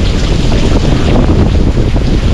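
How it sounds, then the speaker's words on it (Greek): Running water falls from directly above a swimmer in the narrowest part of a gorge, a loud steady rushing and splashing roar that fills the space with no pauses. "Βλέπετε, νερά τρεχούμενα πέφτουν ακριβώς από πάνω μου."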